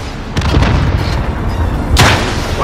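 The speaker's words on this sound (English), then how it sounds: "Rocket launch!" Rocket launch blasts in Call of Duty: Modern Warfare Remastered, loud deep booms with a sharp burst near the start and another heavy crack about two seconds in over a dense rumbling battle bed.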